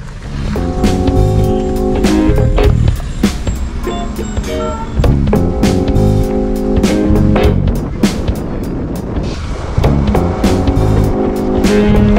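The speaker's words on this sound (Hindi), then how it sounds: "कज़न गाड़ी निकाल रहा है" A car driving out onto the streets of Leh, Ladakh, gives a steady, loud engine drone with sustained tonal hum and scattered sharp knocks and clicks running throughout, fairly close and continuous, with no talk over it.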